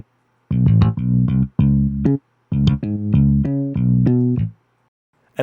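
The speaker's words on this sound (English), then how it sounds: "I just added a bass line as a melody here." A synth bass line carries the melody in an electronic track, phrasing in several sustained, buzzing note groups separated by short gaps, loud and upfront with no voices present.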